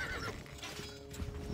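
A horse in Stronghold Crusader video game neighs and stamps its hooves, a short close whinny with a few clopping beats, brief and clear.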